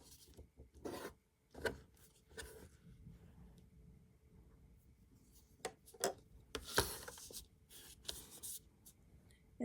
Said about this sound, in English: you use that handy dandy ruler and you trim it